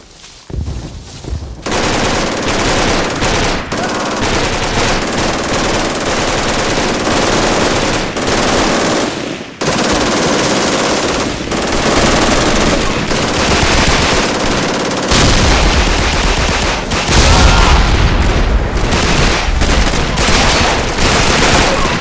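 Sustained bursts of heavy MG42 machine-gun fire in Call of Duty, loud and close, with rapid overlapping shots and brief gaps, like battlefield combat in a game.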